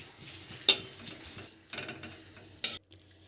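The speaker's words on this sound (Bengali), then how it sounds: "শুকনো লঙ্কা ভেজে নেব।" Dried red chillies fry in hot mustard oil in a pan, giving a soft crackling sizzle broken by a few sharp clinks of a spoon or utensil, quiet and close with no talk.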